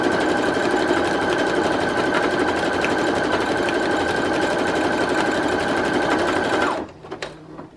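A Brother Project Runway CE1100PRW sewing machine runs decorative stitch 27, a fast steady mechanical chatter with a constant whine that stops abruptly near the end, followed by a few light clicks.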